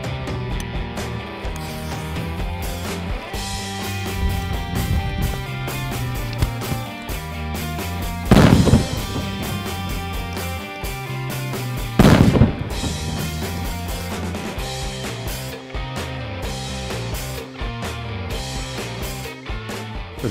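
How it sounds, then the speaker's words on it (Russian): Firecrackers are set off inside boxing gloves, giving two sharp, loud bangs a few seconds apart over a steady background of music. "мы засунем эти петарды в перчатки и посмотрим, что будет с перчатками после разрыва"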